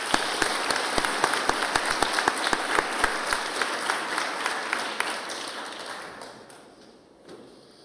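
An audience claps at a junior school girls' awards ceremony in a hall, with distinct individual claps standing out over the steady applause, which fades away over the last couple of seconds.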